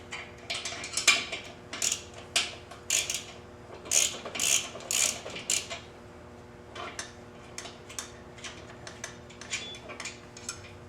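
Nuts being taken off the front wheel axle of a Victory XC motorcycle with hand tools, giving a run of quick metallic ratcheting clicks and small clinks in bursts, close and fairly quiet, with no talking.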